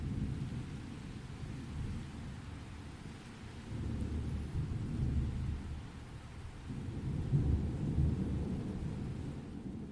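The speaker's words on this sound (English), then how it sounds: "And now you find yourself outside in the rain with Cal and Belwyn." Rain and thunder play as background ambience for a tabletop role-playing game, a steady hiss of rain beneath low, rolling rumbles that swell and fade across the clip, with no voices.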